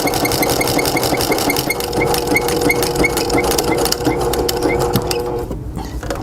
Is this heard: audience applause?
no